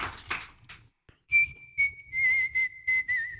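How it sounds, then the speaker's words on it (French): A whistler whistles a short, clear melody from Carmen, with sustained and gliding notes, close and bright, following a brief burst of chatter. "Non mais le sifflement est juste parfait."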